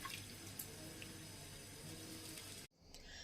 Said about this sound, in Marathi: आता स्वच्छ पाण्यात धुवून घेऊ 2-3 वेळेस.